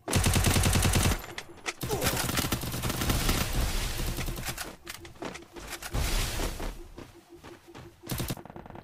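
Automatic weapon fire in the Free Fire mobile shooter during a Clash Squad ranked match, a loud sustained rattle that opens the clip and then continues as rapid stuttering bursts, without any talk.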